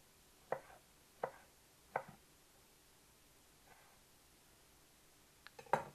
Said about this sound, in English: now that all of our tomatoes are diced up